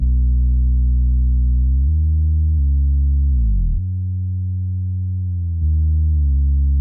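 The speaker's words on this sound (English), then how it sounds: "there's a sub bass, basic sine wave" A loud, pure, deep sine tone holding steady low pitches, stepping and gliding between notes, smooth and continuous with no other sounds.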